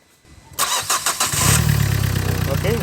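A Nissan Micra with a starting problem cranks in a few loud, uneven bursts, then catches and settles into a steady rumbling idle, with voices talking in the background.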